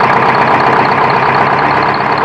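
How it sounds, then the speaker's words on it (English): A moored boat's engine runs loud and close, with a continuous droning rumble that hunts slightly in pitch from a fuel supply problem. "Definitely still got this fuel supply problem. You can hear the hunting."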